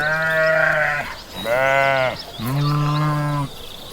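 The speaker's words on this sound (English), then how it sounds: "Sheep." A sheep bleats three times in succession, loud and close, each call a drawn-out wavering cry with a short gap between them.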